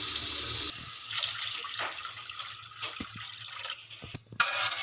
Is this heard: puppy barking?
no